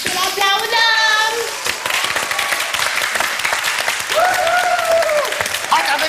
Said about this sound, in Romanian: Să-l aplaudăm!